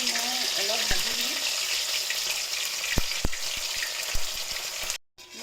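Paneer frying in hot mustard oil, a steady close sizzle with occasional sharp utensil taps and scrapes, ending in a brief cut to near silence.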